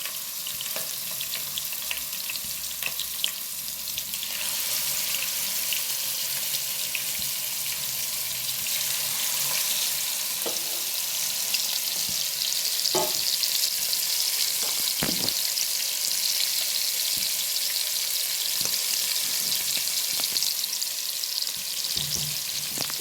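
Tiger prawns frying in a pan give a loud, steady sizzle throughout, broken by occasional clinks and stirring knocks, with no talk.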